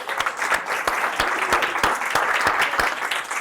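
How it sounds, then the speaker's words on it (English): A room full of people applauding steadily, with dense clapping and a few sharper individual claps standing out throughout. "let's give a round of applause to Adam and Diana"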